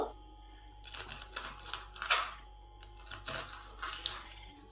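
Knife chopping the fleshy part of pea pods into small pieces on a board, a run of quick, crisp close taps and cuts in irregular bursts, fairly quiet with no talking.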